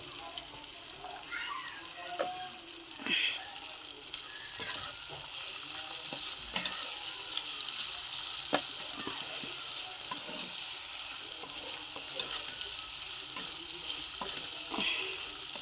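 Onions frying with salt in a pan give a soft, continuous sizzle with repeated scraping and stirring clicks close by, fairly quiet overall and with no one talking.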